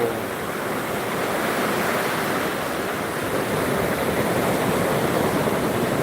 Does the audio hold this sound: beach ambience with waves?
yes